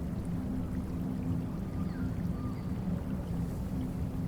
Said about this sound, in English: The soft, uneven sound of a small stream moving over stones.